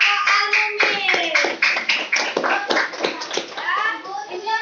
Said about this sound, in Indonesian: Kita kasih tepuk tangan untuk kelompok Al-Mumid.